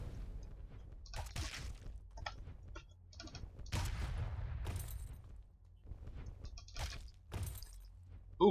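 Gunfire is exchanged in the video game Legend of Grimrock 2, with separate bursts of sharp shots spaced irregularly over quieter gaps, moderately loud, and no talking.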